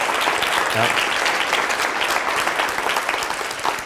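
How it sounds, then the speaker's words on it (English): Sustained audience applause for small-business award winners, a dense steady wash of many hands clapping throughout, with voices mixed in beneath. "Let's give them a round of applause for winning that."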